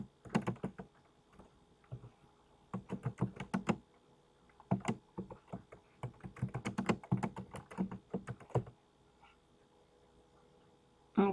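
Bursts of rapid typing on a computer keyboard as a document title is entered in Word 2010, quick clustered key clicks with short pauses between words, close and fairly quiet, with no talking.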